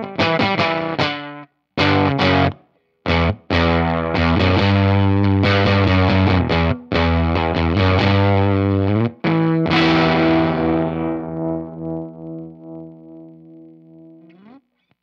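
A guitar played through a Tone Hungry Effects Hunger Bender fuzz pedal gives loud, thick distorted chords cut by short gaps, then a final chord fades out in a wobbly, sputtering decay.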